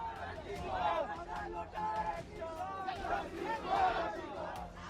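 A large crowd of football fans protests outside the Salt Lake stadium in Kolkata, shouting and chanting in surging waves of voices.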